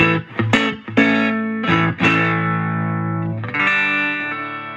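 Electric guitar played through a Fender Champion 20 on its '65 Princeton Reverb amp model, clean with no added effects: a few plucked notes and chords ring out loud and sustained, then a final chord rings on alone.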